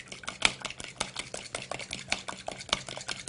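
Eggs and cream stirred together in a bowl, a quick, steady run of light clinks and swishes close by, with no talking.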